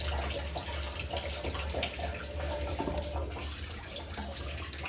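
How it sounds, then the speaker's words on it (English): Water from a running tap pours steadily into a sink and rushes through the pipe below, a constant close hiss and gurgle with a deep low hum underneath, lasting the whole moment. "So when you run the tap and the water goes into there, can you hear that?"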